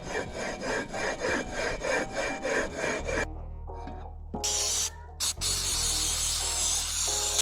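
A Predator 224 small engine valve is lapped by hand with valve grinding compound, giving a close, rhythmic gritty scraping in regular back-and-forth strokes. It gives way to scattered clicks and a steady hum.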